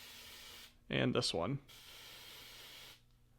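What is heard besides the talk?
smoke detector test spray being sprayed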